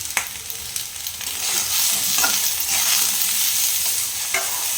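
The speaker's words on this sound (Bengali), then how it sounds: "এটা একটু ভেজে নিতে হবে ভালোভাবে, লো ফ্লেম দিয়ে তুমি ভেজে নিচ্ছি" Nim leaves frying with salt in a pan over a low flame for an aloo-begun dish, a steady broadband sizzle with a few sharp stirring scrapes, close and continuous, no voices.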